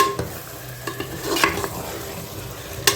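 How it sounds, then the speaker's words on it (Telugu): A spoon scrapes and stirs chicken curry with leafy greens in a hot pan, with a soft sizzle and a few clinks against the metal. "ఒకసారి కలుపుకొని"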